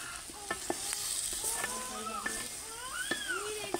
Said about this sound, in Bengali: তো এখন বেগুন রান্না করে নিতেছি।